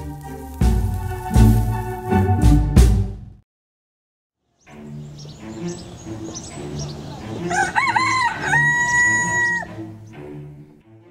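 A rooster crows loudly and close, alone, over the latter half, with an earlier burst of mixed sound and a brief pause of silence before the drawn-out crow.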